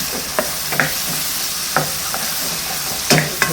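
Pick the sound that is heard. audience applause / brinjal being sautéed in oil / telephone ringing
brinjal being sautéed in oil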